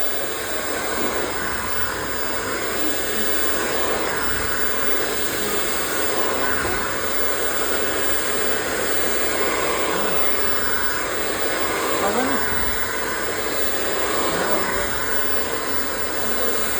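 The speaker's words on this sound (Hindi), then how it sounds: "अब हमारा ब्लो ड्राई ऑलमोस्ट कंप्लीशन पर चला गया है।" A hair dryer runs steadily throughout while a bob haircut is blow-dried and textured with a brush, a constant close hiss and whoosh with no talk over it.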